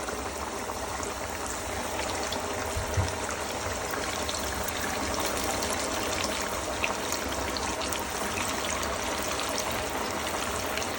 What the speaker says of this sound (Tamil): எண்ணெய் நல்லா கொதி வந்துட்டு